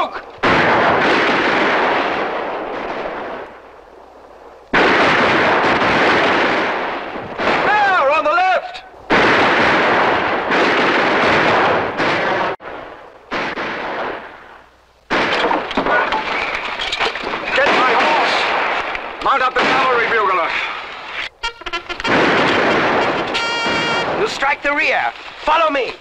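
Musket and cannon volleys fire in a staged battle scene, loud bursts of gunfire and booming blasts coming in repeated waves across the clip, with shouted commands mixed into the din.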